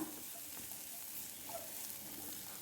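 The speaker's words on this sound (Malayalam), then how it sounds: "കറിവേപ്പിലയും കൂടി ചേർത്തൊന്ന് വഴറ്റിയെടുക്കാം." Torn curry leaves sauté in a pan for a dal curry, giving a faint, even, steady sizzle with no distinct pops or voices.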